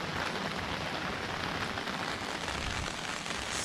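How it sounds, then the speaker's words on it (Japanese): Heavy rain pours down at a campsite, a dense, even hiss of drops drumming on surfaces, loud and close, unbroken for the whole stretch with no voices. "めちゃくちゃ雨降ってますよ。"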